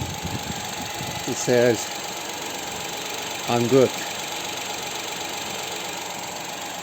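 A Toyota Aygo with a 1-litre 1KR-B engine and manual gearbox idles steadily, giving a constant low hum, while a voice briefly speaks over it twice.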